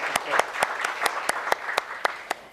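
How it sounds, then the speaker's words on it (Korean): Audience applause at a 2016 Korean-language department orientation for a cyber university, a steady wash of clapping with sharp individual claps standing out at a regular beat, moderately loud and continuous for the whole stretch. "다시 한번 박수 좀 부탁드리겠습니다"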